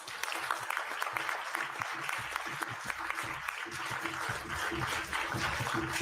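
Applause from an audience at a European energy declaration signing event, a fairly quiet, sustained patter of clapping that runs throughout.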